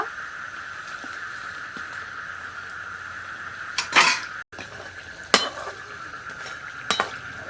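Coriander leaf pakoras fry in a pan with a steady close sizzle, broken by a few sharp scraping clinks of a utensil as the pieces are turned.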